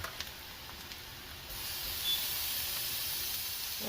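Creole-seasoned shrimp dropping into a hot pan beside pushed-aside seasoning, a steady soft hiss that swells into a louder, continuous sizzle partway through, with no talking.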